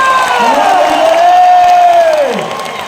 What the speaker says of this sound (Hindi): उसके लिए जोरदार तालियां एवरीवन